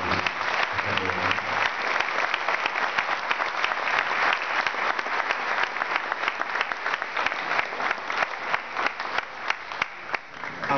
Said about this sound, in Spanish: Por favor, Karina, un fuerte aplauso para mi amiga.